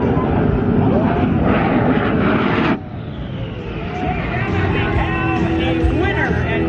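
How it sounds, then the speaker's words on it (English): The Shockwave jet truck's engines roar loudly at the Rhode Island air show, a dense sustained blast that drops sharply partway through as the truck races past, then continues more distantly under a live announcer's commentary. "It is Race On for Shockwave, the jet truck."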